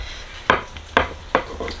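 A rolling pin works over floured fresh pasta dough in a home kitchen, making four soft, evenly spaced thumping rolls, close and fairly quiet, with no voices.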